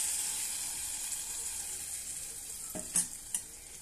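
Moong dal paste dropped into hot tempering for a yellow lentil rasam, giving a steady close hiss of frying with a couple of sharp sizzling bursts near the end as the paste hits the oil.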